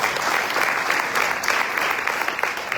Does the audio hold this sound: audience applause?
yes